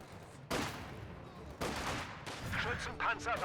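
Rifle shots from a Wehrmacht sniper in Company of Heroes 2, WWII battle sounds with several sharp cracks amid ongoing gunfire and game clutter, a voice talking over the later part.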